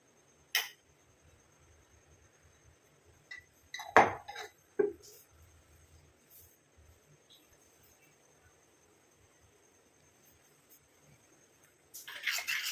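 A homemade hair dye mixture is stirred in a bowl, giving sparse, scattered clinks and scrapes of a spoon against the bowl amid near quiet, with a denser burst of scraping at the very end.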